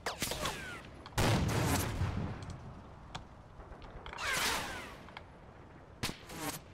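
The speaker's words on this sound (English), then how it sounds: "they're shooting at it, so of course the Greyhound has decided to shoot at these guys over here" Gunfire from a Greyhound armored car in a WWII combat video game, with several loud bursts and cracks mixed with whooshing impacts and sharp single reports at mid distance.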